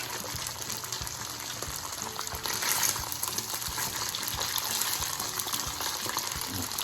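Yellow cornmeal polenta fries in a pan with a steady, dense sizzle and crackle, scattered pops rising through a constant hiss.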